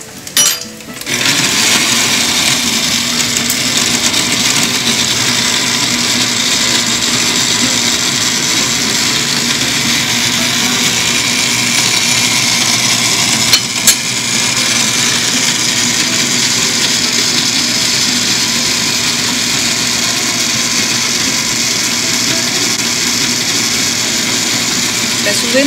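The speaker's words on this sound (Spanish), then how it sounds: "Un poco continuamos licuando." A blender runs steadily for the whole stretch, whirring as it purees a creamy pineapple sauce for a turkey dish, loud and constant with a brief clunk near the middle.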